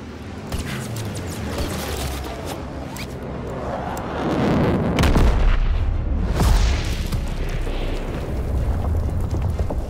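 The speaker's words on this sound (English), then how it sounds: "V-2 Rockets incoming!" V-2 rocket strikes in the Call of Duty WWII video game, heavy booming blasts and rumbling impacts layered with crackling gunfire. The sound builds into a loud sustained roar partway through.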